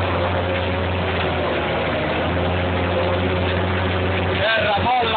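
Fendt 716 tractor engine running with a Gaspardo cultivator in a field, a steady low diesel drone with a tonal hum throughout, while someone talks over it.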